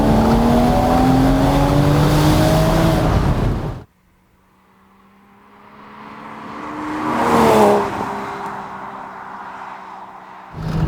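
A Porsche engine revs hard up through its range, cuts off sharply, then swells again in a second rising rev that peaks and dies away before the engine picks up once more at the end.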